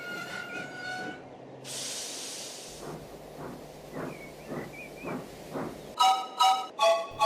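A small engine shunts coal cars onto a different line in a railway story: a series of rhythmic chuffs and clanks, a burst of steam hiss, and short whistle toots at the start and end.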